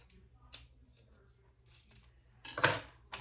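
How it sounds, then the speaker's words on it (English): Scissors snip off excess zipper tape while sewing a garment, a few quiet clicks followed by a louder crisp cut near the end, close up and alone without talk. "And then we'll cut the extra zipper tape off"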